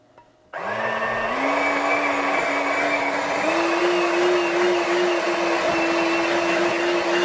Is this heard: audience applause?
no